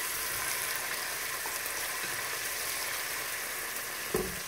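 Onion, garlic, ginger and chili sauté in a pan for a keto cauliflower mac, giving a constant even sizzle with one soft knock near the end.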